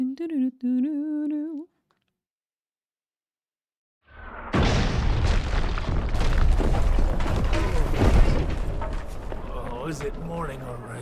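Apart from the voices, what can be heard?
trebuchet bombardment in video game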